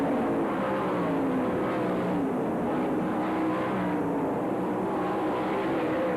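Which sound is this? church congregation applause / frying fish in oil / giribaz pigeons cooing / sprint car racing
sprint car racing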